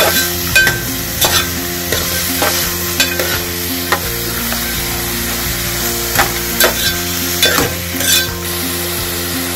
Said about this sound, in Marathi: चणा डाळ घालून झाली आहे, ते मिक्स करून घेऊया आपण। परतूया चणा डाळ घालण्याबरोबर।